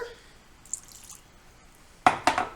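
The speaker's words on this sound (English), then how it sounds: "add the water" Water is added to chocolate chip pumpkin bread batter in a mixing bowl, heard as two brief, close splashes near the end after a quiet stretch with faint clinks.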